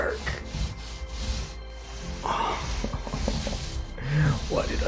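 A paint roller spreading primer across a wall, soft rhythmic rubbing strokes rising and falling at close range, with a voice and breathy sighs heard now and then between passes.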